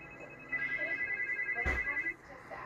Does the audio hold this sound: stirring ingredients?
no